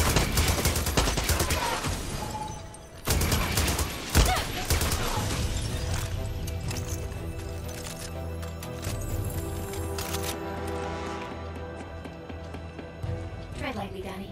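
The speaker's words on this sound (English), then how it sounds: "Light machine gun is not my favorite weapon," A light machine gun fires in the shooter Far Cry 6, with dense rattling bursts up front amid crashes and thuds, then fading under music and a talking voice.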